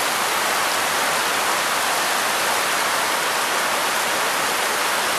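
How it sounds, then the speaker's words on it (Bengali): Heavy rain on a rooftop, heard from a window on a monsoon day, a dense, loud, unbroken hiss with no pauses and no voices. "ওই ছাদের উপর বৃষ্টি।"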